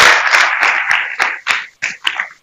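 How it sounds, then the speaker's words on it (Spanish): Audience applause for a lecturer at the close of a university talk on biopolymers: a dense burst of clapping that thins into a few scattered claps and fades within about two seconds. "De nuevo un aplauso para nuestro conferencista."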